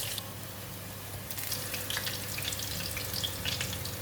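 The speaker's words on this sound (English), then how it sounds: "I'm going to remove the pork belly from the oil." Pork belly deep frying in a pot of oil, a steady soft bubbling sizzle, fairly quiet and continuous, with no voices.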